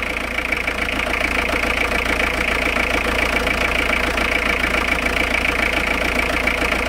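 Motorhome engine idling steadily during a leisure battery split charge check, a constant even drone with no speech, close and continuous throughout.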